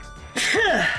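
One sharp sneeze from a person with a cold, a sudden close burst that follows a moment of quiet.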